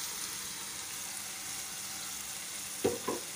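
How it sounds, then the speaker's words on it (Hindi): A paste of onion, tomato, garlic and ginger sizzling in a pan of frying keema, a steady hiss broken near the end by a couple of soft clanks as the mixture is stirred. "अब मैं इसके अंदर वो पेस्ट ऐड कर दूंगी जो मैंने प्याज टमाटर और लहसुन और अदरक का"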